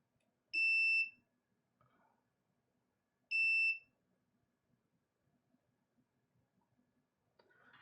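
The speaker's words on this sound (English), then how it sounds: "So it beeps." A multimeter on continuity test beeps while wiring is checked during a wireless mod of an 8BitDo PC Engine CoreGrafx Mini controller: two loud, steady, high-pitched beeps a few seconds apart, with faint handling clicks between them.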